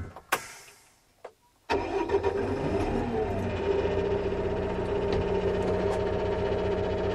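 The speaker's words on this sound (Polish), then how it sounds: "Silnik pracuje równo i cicho." A TYM tractor engine turns over and starts, then settles into a steady, even mid-pitched idle that runs on without talk.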